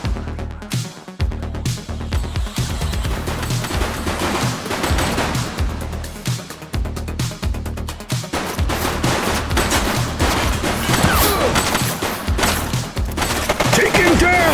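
Dense, loud gunfire from a shootout in The Precinct, a police video game: rapid automatic bursts and overlapping shots rattle almost nonstop over a low rumbling backdrop.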